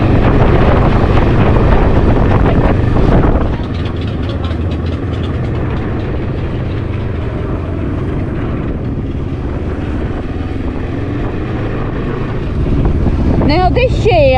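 Riding a Can-Am Ryker three-wheeled motorcycle to a bike show: heavy, steady wind buffeting roars over a low engine rumble throughout and swells louder at the start and end.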